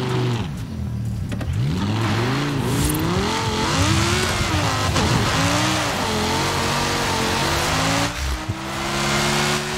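Drifting car in Forza Horizon 5 fitted with winter tyres: a loud, continuous engine wails up and down through sliding revs, with tyre hiss and squeal running throughout, alone without talk.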